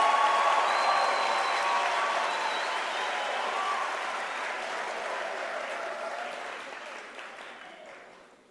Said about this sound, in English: can we give our graduates a warm round of applause?